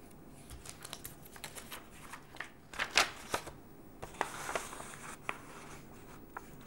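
Paper being folded by hand during a triangle geometry lesson: soft crinkling and scraping, a sharper crease near the middle, and quiet rustles throughout, close and faint with no talk.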